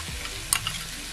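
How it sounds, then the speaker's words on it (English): A soy sauce paste being stirred into onions and garlic in a pot, a brief low sizzle with one sharp clink of a utensil against the pot. "And then stir."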